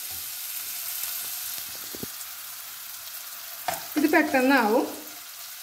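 Crushed garlic fries in coconut oil with jackfruit seeds, giving a steady low sizzle with a few light stirring clicks, followed by a brief spoken remark near the end.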